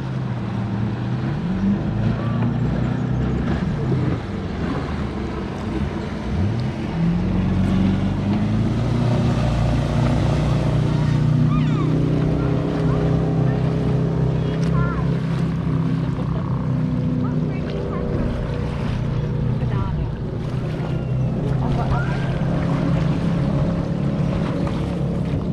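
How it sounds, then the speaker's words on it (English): A ski boat powered by a 350 V8 engine runs steadily on the river at Murray Bridge, South Australia, its low engine drone continuous and fairly loud with rising and falling pitch, mixed with water and wind noise. "Got a beautiful 350 V8 sound."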